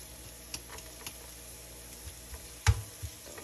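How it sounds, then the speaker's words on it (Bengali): Chopped garlic fries in a pan alongside onions, a faint soft sizzle broken by a few light clicks and one sharp knock. "রসুনটা একটু ভাজা হয়ে গেলে তখন শাকটা দিয়ে দেবো।"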